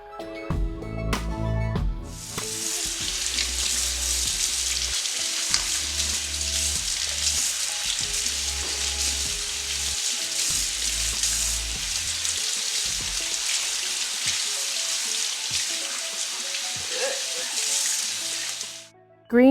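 Whisked eggs hitting a hot cast iron skillet in a ginger beef fried rice dish, a sharp burst followed by a steady, loud sizzle and frying hiss that continues for many seconds, with faint scraping stirs and occasional utensil clicks.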